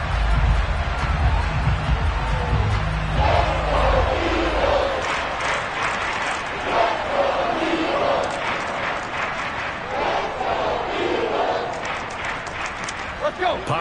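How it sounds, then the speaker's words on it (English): A football stadium crowd shouts and roars in a continuous, loud wash of voices, with a commentator talking over it. "Plenty of shouts from this crowd as they watch the replay."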